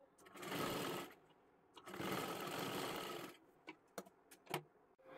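Sewing machine sewing a blouse on stitch setting 5: two sustained whirring runs, then several sharp clicks and taps as the machine stops.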